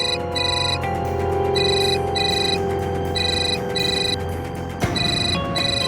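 A phone ringtone trills in repeated short electronic bursts, loud and steady over a low background hum, with no one speaking.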